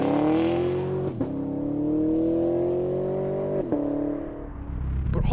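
A Chevrolet Camaro engine pulls strongly up through the revs, its note rising smoothly and broken twice by quick gear changes, heard close and clear.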